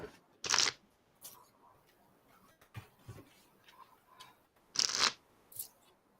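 Playing cards being shuffled in two quick riffling bursts, with faint ticks and clicks in the quiet gaps between them, recorded close up during an online Commander card game.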